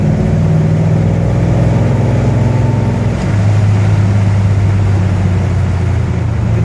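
A 1964 Chevelle convertible with an automatic transmission revving hard through passing gear, a loud, steady engine roar close by. The pitch holds even and then drops into a lower, sustained drone partway through.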